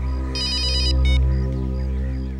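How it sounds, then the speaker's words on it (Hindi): A telephone ringtone trills in two bursts, a longer electronic warble followed by a shorter one, over a steady low hum. "अभिजीत का फोन है।"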